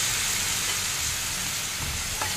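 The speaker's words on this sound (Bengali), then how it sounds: "এটা ভালো করে একটু কষিয়ে নেব যাতে রসুনের কাঁচা গন্ধটা চলে যায়" Garlic honey chicken masala sautéing in a pan with honey water, giving a steady, even sizzle and hiss with no voices.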